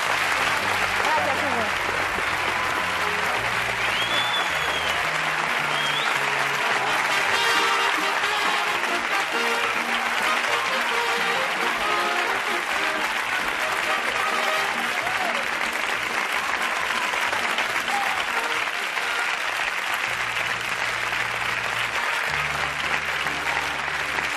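A TV studio audience applauds continuously and loudly through the whole stretch while a host keeps speaking over the clapping, on a Mexican game show in 1987.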